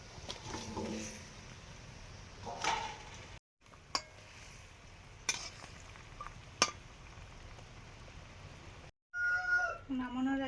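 Fish slid into a spiced pan of mustard-style curry, a low ongoing sizzle with a few sharp clinks and scrapes, broken by brief pauses, and a voice speaking briefly at the end.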